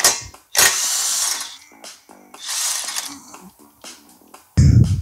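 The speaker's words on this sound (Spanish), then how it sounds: "sacando estos dos pernos que son llave 14" Brake caliper bracket bolts on a Mazda Miata's front brakes are loosened with a 14 mm wrench, giving bursts of rapid ratcheting clicks and metallic turning noises up close, broken by short pauses and a final clunk.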